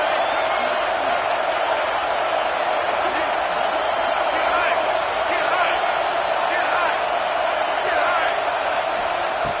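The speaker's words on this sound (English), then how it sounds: "Listen to the crowd energy here in the early going" A stadium crowd in an NCAA college football video game keeps up a constant, dense roar under a commentator's voice.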